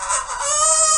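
A single loud, close rooster crow, one long harmonic call held for about a second without pause.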